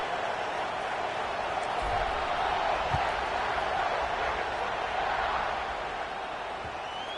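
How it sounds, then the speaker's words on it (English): Stadium crowd buzzing after a score in College Football 26, a steady, broad roar of distant voices filling the whole stretch at even loudness, with no distinct cheers or claps standing out. "this crowd is buzzing after that last score"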